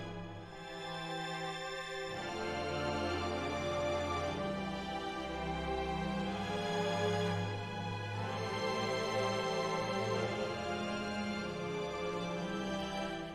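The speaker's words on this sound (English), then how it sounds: "getting back into this string section" A sampled orchestral string section swells in sustained, legato chords, with low strings moving underneath and a smooth, continuous texture throughout; no voices.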